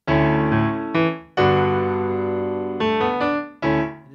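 Piano plays a short phrase of a few notes and chords from a song, some held and ringing, with brief quick pentatonic runs between them.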